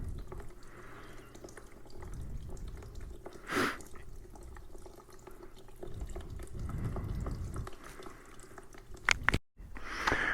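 Liquid drains from a Husqvarna 701 motorcycle tank into a bucket, giving a continuous close trickle and splashing drips under a steady background, ending with a brief louder clatter.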